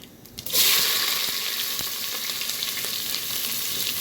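Onions hit hot oil with fennel seeds and erupt into a loud, close sizzle that starts abruptly and then hisses on steadily, with faint occasional stirring clicks and no voices.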